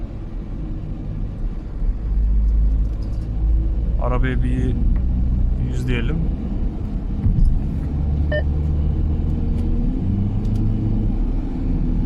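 Audi Q5 2.0 TDI diesel engine cruising at around 100 km/h near 1500 rpm, a steady low rumble running throughout beneath someone talking.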